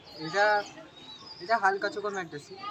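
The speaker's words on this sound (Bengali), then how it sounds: "খুবই ভালো পায়রা দুটো দেখুন মেল ফিমেল রয়েছে" Pigeons in a high-flying pigeon loft, a male and female pair, give soft low coos in short bursts close by, with voices talking around them.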